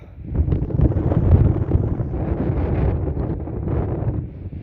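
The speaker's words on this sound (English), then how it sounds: "Just bunkering down here from the wind." Strong wind buffets the microphone at the top of Kirkstone Pass, a loud gusting roar that surges and eases for several seconds with no talk.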